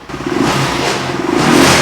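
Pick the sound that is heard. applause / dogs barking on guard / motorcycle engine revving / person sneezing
motorcycle engine revving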